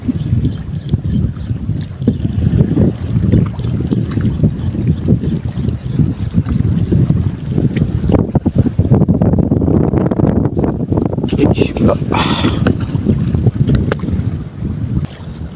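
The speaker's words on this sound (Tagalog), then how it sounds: "Mahangin talaga ngayon, parang amihan pa rin." Strong, gusty wind roars across the microphone on a small fishing boat at sea, a loud, continuous rushing with water slapping and churning beneath it and no voices.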